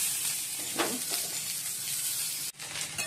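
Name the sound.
pointed gourd (potol) frying in oil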